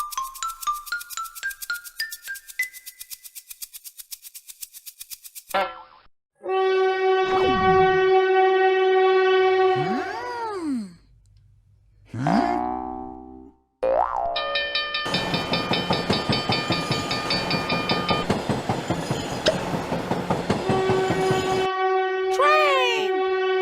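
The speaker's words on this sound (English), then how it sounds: "Train!" A cartoonish train sound effect for a children's animal-and-vehicle sounds video, with rhythmic chugging and clacking, rising tones and whistle-like horn toots, broken by brief pauses.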